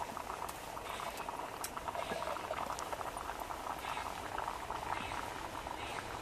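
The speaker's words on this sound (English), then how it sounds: "As it's now boiling, we'll take it off the stove" Water for rice bubbles at a steady rolling boil in a pot on a camp stove, a continuous close crackling and popping with no pauses.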